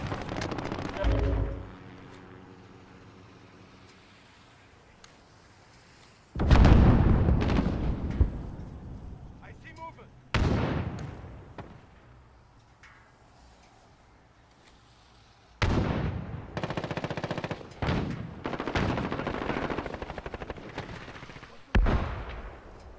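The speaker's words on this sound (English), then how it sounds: "Precision airstrike, get down!" Precision airstrike explosions in Call of Duty Modern Warfare, several heavy, booming blasts landing close with long rolling decays, separated by quieter gaps and followed by a cluster of rapid impacts near the end.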